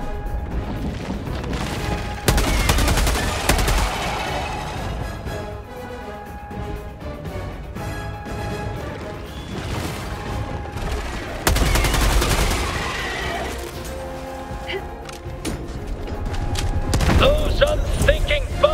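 Rapid bursts of weapon fire in the video game Helldivers 2, loud repeated shots and impacts with booming blasts, under intermittent game voice lines.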